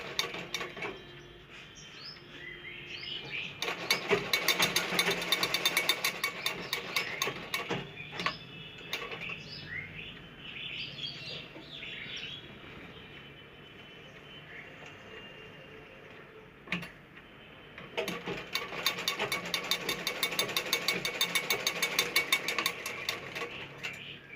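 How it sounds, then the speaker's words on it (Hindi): A sewing machine stitches a zipper onto a semi-stitched lehenga, running in two long bursts of rapid mechanical clatter separated by a quieter pause with faint handling sounds. "हमें इस यहाँ से सिलाई मार देनी है चैन की"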